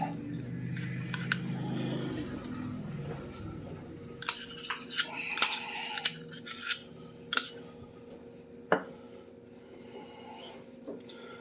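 A utensil spreads a topping over a ghost pepper meatloaf mixture packed into a pan, giving soft scrapes and a few sharp metallic clinks and taps, quiet and close.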